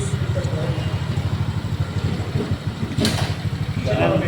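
A Honda Click V2 scooter engine runs steadily on a test ride after a repair for a rough knocking fault, its low pulsing drone continuous and close with voices talking over it.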